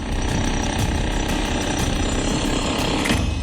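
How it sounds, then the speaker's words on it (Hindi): A drill machine breaking a madrasa wall hammers in a rapid, continuous, loud pounding rhythm that lasts the whole stretch, close by and with no other sound. "हैं, ड्रिल मशीन से तोड़ा जा रहा है।"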